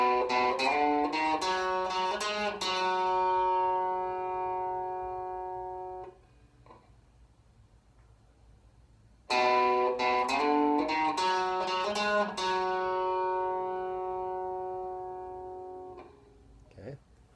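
A blues guitar plays a turnaround riff, a quick run of plucked notes ringing into a sustained chord, a pause of near silence, then the phrase repeated with another ringing finish.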